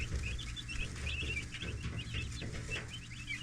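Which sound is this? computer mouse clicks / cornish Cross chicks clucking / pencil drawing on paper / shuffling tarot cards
cornish Cross chicks clucking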